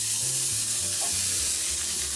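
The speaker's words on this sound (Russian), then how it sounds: "Овощи сильно обжаривать не нужно" Vegetables and garlic frying in a pan, a steady, close sizzle that fills the whole moment without pause and without talk.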